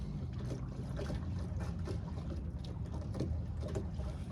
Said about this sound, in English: Get a bit closer, start the motor